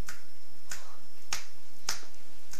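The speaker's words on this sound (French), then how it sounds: "Chaque claquement de doigts elle devient de plus en plus légère." Five crisp finger snaps ring out alone at a slow, steady pace, each sharp and close with nothing else audible between them.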